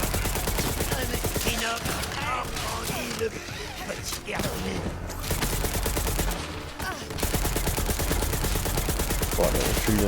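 Rapid automatic gunfire in the video game Borderlands 3 rattles loud and nearly continuous, with a few short pauses, while someone speaks over it.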